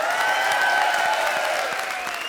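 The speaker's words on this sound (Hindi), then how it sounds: "जोरदार तालियां बजाओ इसके लिए" Studio audience applause at a televised comedy show: dense, steady clapping that stays loud and even across the whole stretch, with no talk over it.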